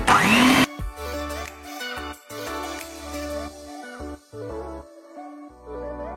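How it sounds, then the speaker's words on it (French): An electric mixer whirs through hardened cream for a lemon cake, its motor droning in loud uneven bursts that start and stop repeatedly, with a sharp revving swell at the start. "je vais un petit peu la mixer pour qu'elle soit un petit peu plus fluide"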